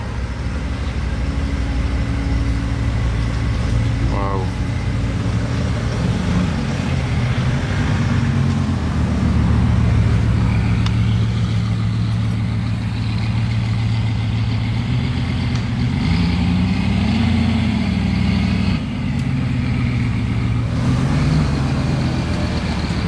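A hypercar engine idling in Monaco in front of a dealership, switched into race mode before shutdown; a close, steady low rumble with a few rising and falling revs over street ambience.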